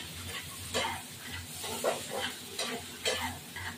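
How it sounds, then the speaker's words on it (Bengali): Chili powder fries in oil for a pointed gourd and poppy seed dish, giving a steady close sizzle broken by repeated scraping stirs of a spatula against the pan. "এবার এটা ভাজা হোক, তারপর ফিরে আসবো"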